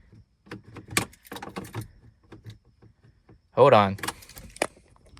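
Car keys jangle beside a car with a BMW N54 engine, a bright metallic rattle in short bursts that grows loudest near the end, while someone speaks briefly.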